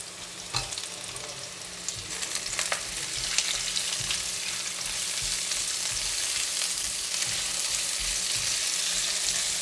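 Ginger hitting hot oil in a wok with garlic, star anise and clove, a steady loud sizzle and crackle with occasional stirring scrapes, growing denser and more even over several seconds.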